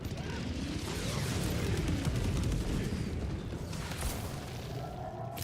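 Air support explosions in the video game Helldivers 2: a continuous heavy rumble of blasts and artillery-like booms, dense and sustained, with a few sharper cracks and mechanical rattles layered on top.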